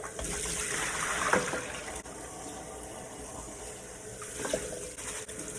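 Cold water runs steadily through a strainer of long grain white rice being rinsed, a continuous, even splashing gush with a brief louder surge partway through.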